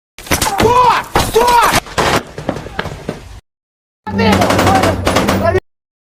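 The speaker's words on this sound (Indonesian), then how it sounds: "Dima akhirnya melepaskan tembakan balasan ke arah posisi Gleb" Loud, close bursts of rapid gunfire from a Russian war film, a pause of silence, then another sustained burst.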